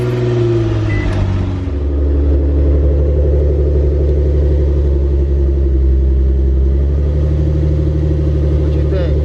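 An Infiniti G35 coupe engine starts and then keeps running, giving a loud, steady, low idle rumble with a slight shift early on that holds evenly to the end.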